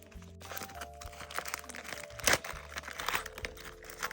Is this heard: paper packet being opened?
yes